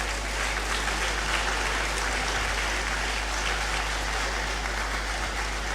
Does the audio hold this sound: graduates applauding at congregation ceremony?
yes